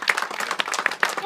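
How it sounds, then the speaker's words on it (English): An audience gives Dan a round of applause at the official opening of a Milford Haven base, a short burst of clapping from a nearby crowd, mixed with voices talking over it. "can you give him a round of applause, please?"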